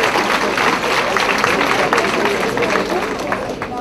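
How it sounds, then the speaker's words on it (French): Loud, continuous applause from a conference audience for a group of runners, a dense wash of clapping with crowd murmur throughout. "une bonne main d'applaudissements des coureurs qui s'entraînent depuis le mois de décembre"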